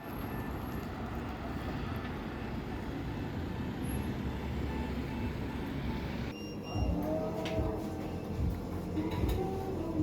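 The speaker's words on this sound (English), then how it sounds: "But also currently all the supply trucks that are making a lot of noise." Heavy supply trucks rumble through a Danish town street, a steady loud low roar of engines and road noise that continues throughout, with a shift in the traffic mix partway as another vehicle passes close.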